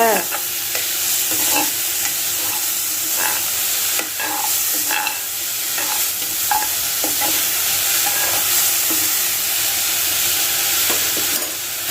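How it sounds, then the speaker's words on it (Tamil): Onions sizzle steadily in a hot pan while a utensil scrapes and stirs at irregular intervals, close up, with no talking, as they soften until translucent. "வெங்காயத்தை போட்டு நல்லா கண்ணாடி பதம் வர வரைக்கும் வணக்குங்க"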